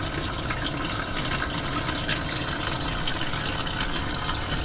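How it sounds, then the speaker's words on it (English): Water drains steadily from hot water tanks during dewinterizing, a constant, close, broadband rush and splash with no pauses and no voices. "So we're draining the hot tanks"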